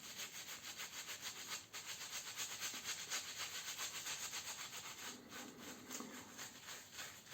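A shaving brush works shaving soap into a lather, a steady close wet swishing and rubbing that continues throughout at an even level with no talking.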